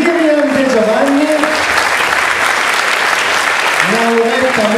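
Audience applause at an outdoor band concert during musician introductions, steady dense clapping filling the whole stretch, with a voice speaking over it at the start and end.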